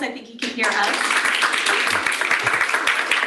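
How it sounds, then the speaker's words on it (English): Applause breaks out in a room at a panel event, a dense, steady wash of clapping from a modest audience with a voice speaking over the start. "I invite those in the room to join me in applause"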